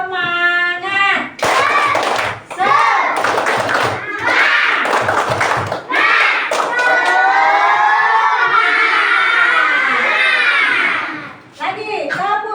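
Second-grade children in an Indonesian classroom chant a rhythmic spirit cheer together, their bright shouting voices loud and close, punctuated by sharp group hand claps in quick patterned bursts that break off near the end.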